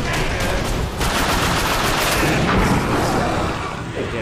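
Gunfire from a weapon that makes enemies explode in the video game The Darkness 2, a dense, loud and continuous burst of shots and blasts lasting the whole stretch without talk.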